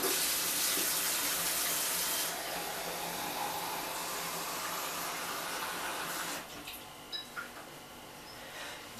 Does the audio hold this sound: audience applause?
no